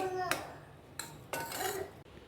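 A spoon scrapes and clinks in a pan while sprouted moong and potato sabji is mixed, giving three sharp metallic knocks among softer stirring sounds at close range.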